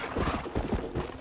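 Horse hooves in Red Dead Redemption, a quick run of clip-clop beats with uneven rhythm, close and moderately loud, with no talk over them.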